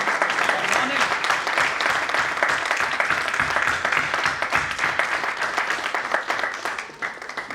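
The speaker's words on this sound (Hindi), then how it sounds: "जोरदार तालियों से आप सभी के लिए एक बार गुड मॉर्निंग।" Loud applause from an audience at a DXN leaders orientation training event in Uttarakhand, continuous dense clapping throughout with voices faintly underneath.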